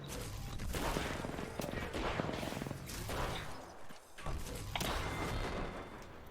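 Bursts of gunfire in the battle royale shooter Apex Legends, loud repeated shots and heavy thuds in rapid clusters with a brief lull near the middle, dense and close throughout.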